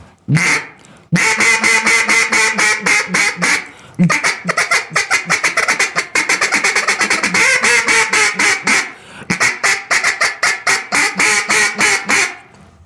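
A duck call is blown by hand to imitate duck quacks, loud rapid runs of nasal quacking in rhythmic bursts with brief pauses between sequences, close and alone.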